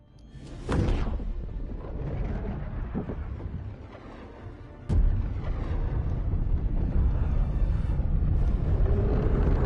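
Walking barrage artillery shells in the video game Helldivers 2 explode in heavy booming blasts, one near the start and another around the middle, over a continuous loud roaring rumble with no talking.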